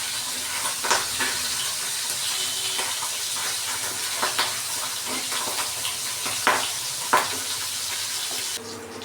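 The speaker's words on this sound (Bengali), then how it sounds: "মাছটা সুন্দরভাবে ভাজা হয়ে গেছে," Tengra fish frying in oil for a potato curry give off a steady, loud sizzle with scattered sharp crackles and pops throughout, heard alone with no talking.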